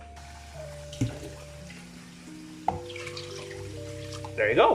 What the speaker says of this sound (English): put water in here until it covers everything